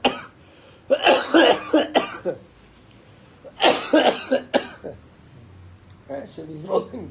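A man coughs repeatedly in harsh, close bursts, with throat clearing between fits and pauses of quiet in between.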